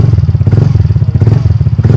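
A Mio Soul i 125 scooter fitted with a JAD Racing power pipe exhaust idles close up, a deep, full, rapid thumping putter that stays steady and loud throughout.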